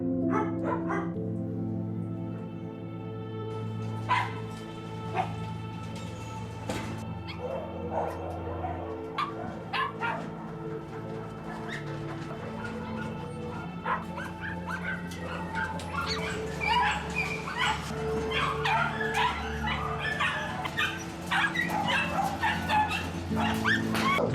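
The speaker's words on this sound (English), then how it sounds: "it can be entirely legal to keep a mother dog confined to a barren concrete cell in a shed for 23 hours a day" Dogs in a breeding facility shed with barren concrete cells bark, yip and whimper continuously, several animals overlapping at moderate distance, growing busier and more frantic toward the end.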